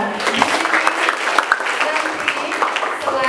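Children in a school applaud together, a dense patter of many small hands clapping steadily at close range, with a few voices mixed into the clapping.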